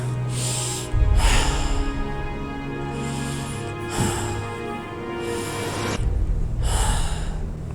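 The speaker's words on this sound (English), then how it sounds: "just take a few deep breaths" Several slow, deep breaths come one after another, audible inhales and long exhales heard close and alone at a calm, even pace.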